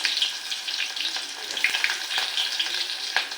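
Onion, cumin and mustard seeds sizzling in hot oil for a tempering, a close, steady crackling fry with scattered sharper pops and some stirring.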